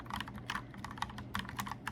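Typing on a mechanical keyboard fitted with round, typewriter-style keys: quiet, close clacks in quick irregular bursts with short pauses, no voice.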